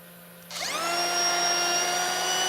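A DeWalt router with a dust collector vacuum spins up from a low hum into a steady high-pitched whine and keeps running loudly and continuously nearby.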